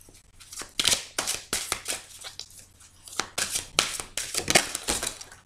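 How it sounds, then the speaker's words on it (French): Tarot cards being handled and shuffled, a run of quick crisp riffling and slapping bursts at close range, uneven in rhythm, with no talk. "je vais aller chercher quelques cartes."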